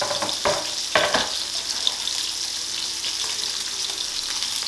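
Beef sears in a hot pan under a steady, bright sizzle that runs throughout, close and loud, with a few knocks at the start as the meat is turned, and no voices.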